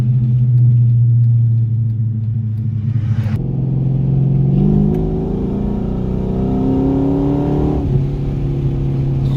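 Dodge Magnum R/T fitted with an SRT rear end drops into second gear and accelerates, a loud low engine rumble rising in pitch as it revs, heard from inside the car.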